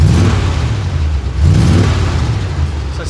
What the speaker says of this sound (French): ça c'est le bon le V8 américain ça